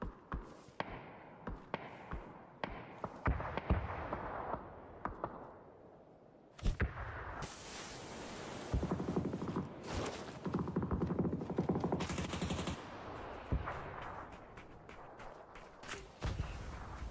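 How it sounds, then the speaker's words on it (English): Explosive mortar strikes and bursts of gunfire in a battle video game, sharp impacts and crackling shots scattered throughout, with a louder stretch of dense firing in the middle. "AKA are still shooting mortars."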